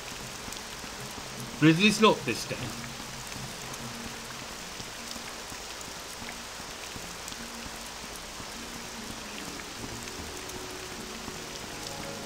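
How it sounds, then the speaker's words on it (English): Steady rain falls over the city of Vivec in Morrowind as a soft, constant hiss. Someone speaks briefly near the start, and the rain carries on alone afterward. "At some point, maybe one day, it'll stop raining in Vivec."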